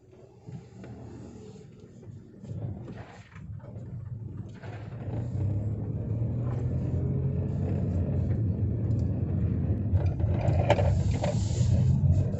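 A Nissan March 1.2 XS automatic pulls away and drives on, its low engine rumble and road noise building from quiet to a steady, fuller drone heard from inside the cabin.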